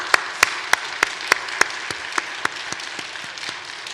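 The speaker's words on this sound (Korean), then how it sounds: "우리 선생님들 박수 또 한 번만 쳐주십시다." A church congregation claps for its Sunday school teachers, heard as a run of evenly spaced sharp claps, about a dozen, that grows fainter toward the end.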